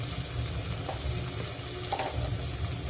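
Green chillies and a few curry leaves spit and crackle in hot oil during tempering for a fish curry. The frying hiss runs steadily beneath a low background rumble, with light stirring sounds and no speech.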